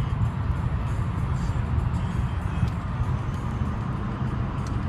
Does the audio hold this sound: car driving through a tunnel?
yes